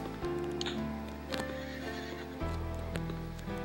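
A horse in the video game Survival Craft neighs and whinnies loudly up close, with clip-clopping hooves and a few ticking game sounds, no speech.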